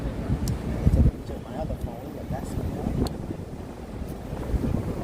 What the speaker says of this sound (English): Ooh, it's breezy.